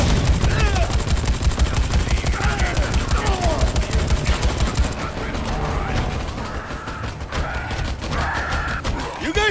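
Rapid gunfire rattles in Dead Rising 4, with dense bursts of shots close and loud in the first half. Shooting continues more sparsely afterward, mixed with grunts and a voice talking.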